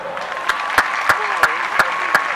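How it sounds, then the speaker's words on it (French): Audience applause at a World Youth Day 2016 conference-debate, a steady wash of clapping with a few louder sharp claps standing out at a regular pace, fairly close. "On nous applaudit."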